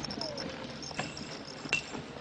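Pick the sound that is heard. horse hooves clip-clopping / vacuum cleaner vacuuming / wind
horse hooves clip-clopping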